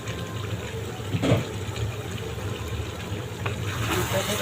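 Potatoes are washed under running tap water, a soft continuous flow with brief splashes and a hand rubbing them, fairly quiet and close.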